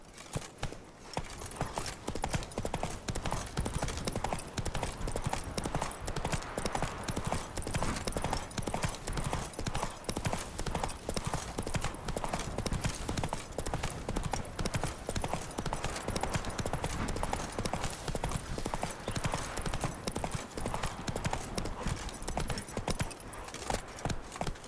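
Rapid, steady hoofbeats of a horse galloping in The Witcher 3, a continuous rhythmic clip-clop at close range running unbroken throughout, fairly quiet.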